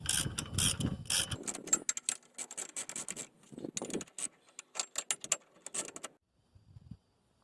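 A hand ratchet clicks in quick bursts while snugging the bolts on a 2009 Toyota Yaris rear hub during drum backing plate replacement, with short pauses between runs and a brief faint rattle at the end.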